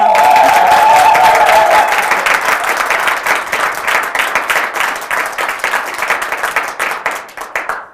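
Studio audience on a youth broadcast applauds, a loud dense burst of clapping that gradually breaks into separate claps and tapers off, with a brief tonal whistle or cheer near the start.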